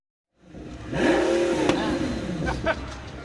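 A yellow Pagani Huayra supercar engine starts up and revs smoothly nearby, a rising then falling whine with a sharp pop, followed by a steady engine rumble, outdoors at a supercar parade.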